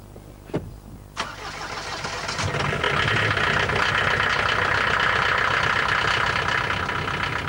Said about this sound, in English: if you go for the diesel version, as we've got here, your neighbours won't think you're the funniest person in the world when you start it up in the morning